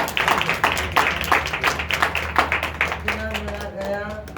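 A church congregation gives a round of clapping during a husband-and-wife testimony, rhythmic hand claps at a steady pulse that fade out as a voice begins speaking over a low hum.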